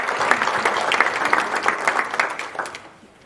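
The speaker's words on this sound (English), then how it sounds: "Let's give them a round of applause" Applause from attendees at a foundation's annual meeting honoring the meal's caterer, a dense wash of clapping hands that stays steady for about three seconds and then fades out.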